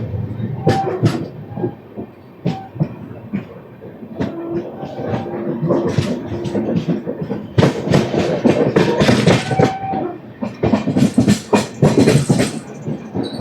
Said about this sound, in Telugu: మన వెనకాదలో వచ్చేస్తుంది ఆ ట్రైన్ హరిప్రియ.